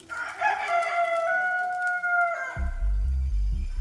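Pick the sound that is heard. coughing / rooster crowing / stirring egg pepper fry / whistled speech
rooster crowing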